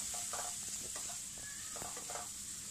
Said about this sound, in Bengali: এটা একটু ভালোভাবে কষিয়ে নিচ্ছি